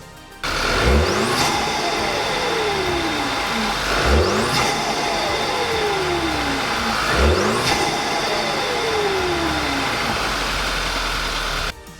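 A modified VW GTI MK6 with an ECS Tuning upgrade cranks and fires up, then revs hard three times with rising roars falling back to a rumbling idle, close and loud.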